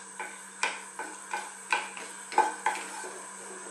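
Star anise infusing in oil in a pan over very high heat, with a utensil scraping and tapping against the pan in a steady rhythm of about ten strokes above a faint sizzle.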